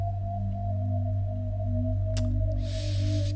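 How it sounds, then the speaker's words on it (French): Alien spaceship landing in the video game Midnight Scenes: a steady low drone with a sustained whining tone, a brief sharp crackle, then a burst of bright hiss near the end, with no talking. "Linda, ça c'est le bruit d'un vaisseau alien qui atterrit."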